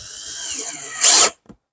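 A power drill drives a Spax Torx screw into a metal gate frame, whining briefly and rising to a loud burst before stopping abruptly, with a small click after.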